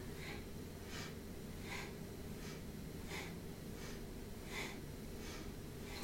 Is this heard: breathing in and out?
yes